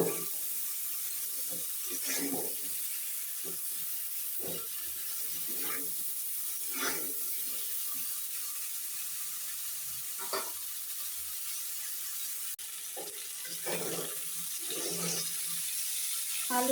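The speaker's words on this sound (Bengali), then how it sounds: "এখন এই সব উপকরণ আমি ভালোভাবে কষিয়ে নেব।" Spices and potatoes for a Bengali fish curry fry in a pan, with a steady soft sizzle and repeated scraping, stirring strokes, near and moderately quiet, without talk.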